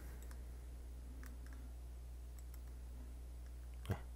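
A single sharp mouse click on a render button in 3D software, heard once near the end over a steady low computer hum, with no talk.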